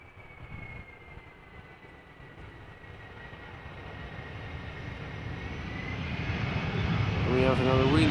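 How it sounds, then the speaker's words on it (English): A Delta Airlines Airbus A330-300, 18 years old, arriving at Amsterdam Schiphol after a flight from Minneapolis, its engine roar building steadily and growing louder and closer toward the end. "Delta Airlines flight 164 A330-300 arriving from Minneapolis"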